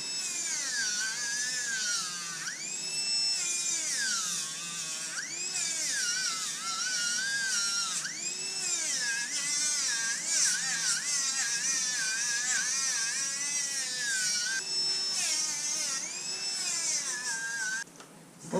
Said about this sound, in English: Okay, I got some Zam here. I'm going to do some final polishing on it.